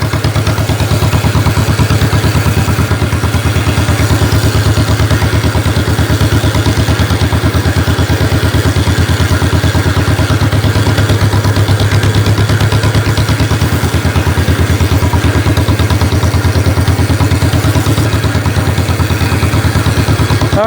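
A 1949 John Deere tractor engine chugs steadily in first gear, a loud, continuous low rhythmic putter with clatter that holds even for the whole stretch, no talk over it.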